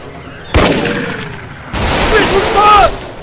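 Grenade blasts and gunfire in the jungle shooter Raven Squad: a sudden loud burst, a lull, then a longer rumbling barrage, with shouting voices mixed in.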